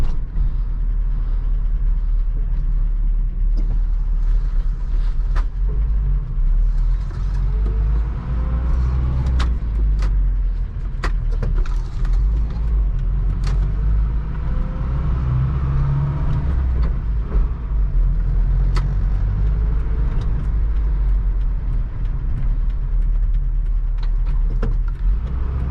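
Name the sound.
1985 Toyota pickup driving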